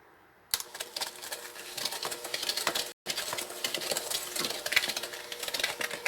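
Steady rattling whir of an electric hand mixer beating butter and sugar in a bowl, close and loud, with a brief stop partway through.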